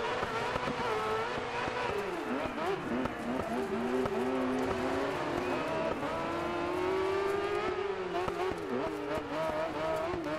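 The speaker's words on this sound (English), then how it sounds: "it's hard to hear my own engine." A race car engine in the off-road racing video game Dirt 5 drones loudly and continuously, its pitch sweeping up and down with revs and shifts, with faint tire squeal mixed in.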